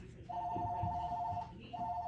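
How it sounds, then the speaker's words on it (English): A telephone rings in two electronic trills with a brief gap between them, over a low room hum and faint background noise. "He hears the phone."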